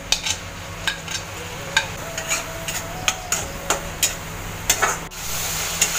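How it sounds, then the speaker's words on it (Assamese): Onions frying with chopped green chillies in a pan on a gas stove for an Assamese macaroni pasta: a steady soft sizzle with repeated light clinks and scrapes of a utensil against the pan, no talking. "এইখিনি ভাজা হৈ গ'ল পিঁয়াজটো একেবাৰে গলাই দিব নালাগে"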